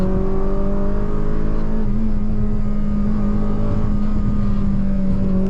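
Mitsubishi Lancer Evo Tommi Makinen engine under acceleration, a steady loud in-car drone with strong low harmonics holding throughout, heard from inside the cabin at speed.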